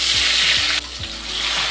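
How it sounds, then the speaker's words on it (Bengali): Pieces of rohu fish frying in hot oil, giving a steady close sizzle and crackle that dips briefly partway through, with a few soft low thumps underneath and no talk. "বাকি মাছটাও ভেজে নেব একইভাবে।"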